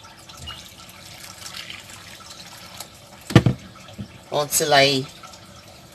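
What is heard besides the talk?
water being added to a pot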